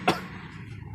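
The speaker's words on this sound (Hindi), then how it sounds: "माजरत के साथ थोड़ा खांसी आ गई थी उस वजह से।" A person coughs twice, short and close, the two bursts separated by a quiet pause.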